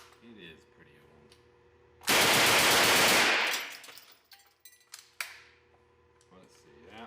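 An old MP40 submachine gun fires a cleaned magazine in one loud continuous burst of about a second and a half, followed by fainter clinks and a few sharp knocks, with brief talk before and after.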